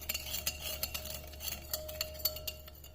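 A spoon quietly stirs sugar, crushed black pepper and crushed red chilli together in a salad bowl, giving faint, irregular clinks and scrapes against the bowl over a soft background hum.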